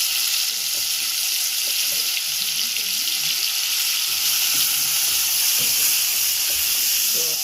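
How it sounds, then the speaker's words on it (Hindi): Chopped onions frying in a pan for rajma, giving a steady, close sizzle with bubbling and crackling throughout and faint background talk. "प्याज हमारा थोड़ा भून चुका है।"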